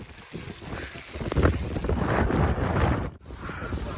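Strong gusty wind with rain buffets the microphone in loud, rumbling surges that swell and briefly drop away, with no talking, at Kanakeshwar Shiva temple, Alibag.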